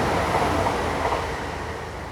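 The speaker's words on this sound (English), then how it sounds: "Oh, train, you can hear it." A train passes near a meadow in Kennington, its steady broadband rumble holding through the whole stretch and easing slightly toward the end, with no talk over it.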